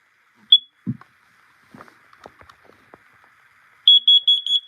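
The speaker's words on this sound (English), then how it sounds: "This right here is the First Alert CO400 carbon monoxide alarm" A First Alert CO400 carbon monoxide alarm gives a single short high chirp, then after a stretch of quiet handling noises it breaks into a loud, rapid run of repeated piercing beeps close by.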